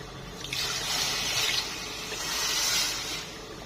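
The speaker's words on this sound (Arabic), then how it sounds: "ونزيد قدهم ماء." Water pours steadily into a pot of red vermicelli soup made without tomato, harissa or meat, rising in two broad hissing surges over about four seconds with no talk.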